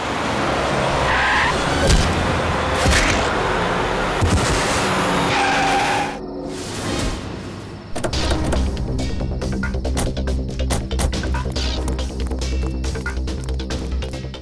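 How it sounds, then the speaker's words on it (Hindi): A car skids hard, its tires squealing in a loud, sustained screech with sharp bursts and rumbling, in a tense crime-drama road scene involving a drunk driver. "डरो मत ऋचा, पीने के बाद में और भी सेफ गाड़ी चलाता हूँ।"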